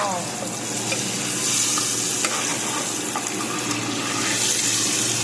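Eggs frying in a pan for Mangalore-style egg curry give a steady, dense sizzle and crackle that runs without a break, with a few faint clinks and stirring scrapes and no talk.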